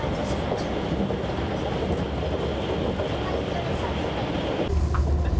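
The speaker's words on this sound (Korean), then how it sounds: "어느새 도심을 빠져나온 열차가 동강을 지나 강원도 영월에 들어섭니다." A Mugunghwa passenger train runs on the Taebaek Line in Gangwon Province, a loud steady rumble and rattle of rolling wagons that continues throughout and deepens near the end.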